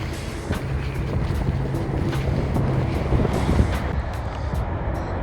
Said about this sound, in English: As you probably can hear, we're about to cross the motorway